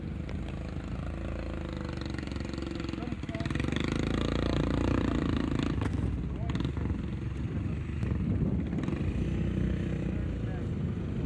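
A Royal Enfield Himalayan motorcycle rides off-road, its engine holding a steady mid-distance drone that climbs to a louder, rougher rumble partway through, with people talking over it.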